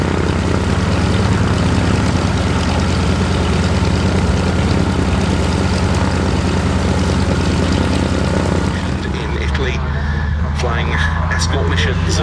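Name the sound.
Yak-3 fighter aircraft taking off from the runway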